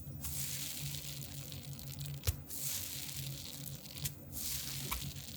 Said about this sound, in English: The sleeves feel really nice to shuffle.